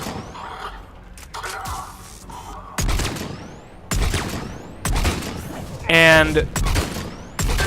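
Repeated Viper rifle shots in Mass Effect 3, a series of loud, sharp cracks spaced about a second apart amid battle noise, with someone talking between and over the shots.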